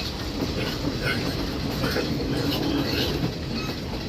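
An old train rolls between Colombo and Kandy in Sri Lanka, its carriage rattling and rumbling steadily from inside with a continuous loud clatter of wheels on track and the shake of the car.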